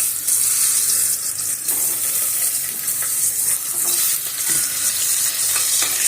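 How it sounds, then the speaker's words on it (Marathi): Eggs frying in hot oil with turmeric in a pan, a steady bright sizzle with faint crackles, close and continuous, no talk. "अंडी टाकून मी अशी छान पद्धतीने थोडीशी गोल्डन होईपर्यंत फ्राय करायची आहे"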